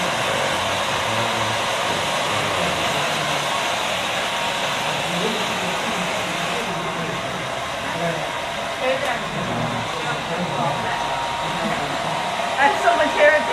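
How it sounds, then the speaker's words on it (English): Steady whir of two hair dryers blowing on a customer's hair in a South Korean hair salon, a continuous close airy roar throughout with faint salon voices beneath. "Two people drying your hair."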